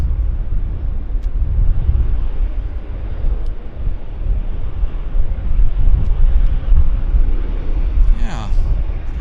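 A Lufthansa Boeing 747-400 lands and rolls out on the runway at Vancouver Airport, making a loud, steady roar mixed with wind buffeting. A brief voice is heard near the end.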